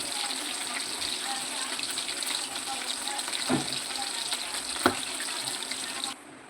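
Chicken pieces for chicken manchurian sizzle steadily in a pan of oil, a continuous close crackling with a couple of sharp clinks, ending abruptly near the end.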